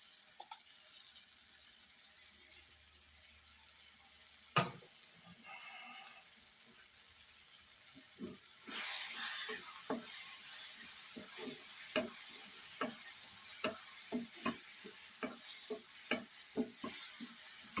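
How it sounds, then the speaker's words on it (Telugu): Masala paste for a meal maker (soya chunk) curry frying in a pan, a quiet sizzle joined after a sharp clatter by a steady series of stirring scrapes and taps that grow busier toward the end. "ఇప్పుడు మనం పట్టి పెట్టుకున్న మసాలా పేస్ట్ ఉంది కదండి మసాలా పేస్ట్ వేసేస్తున్నాం"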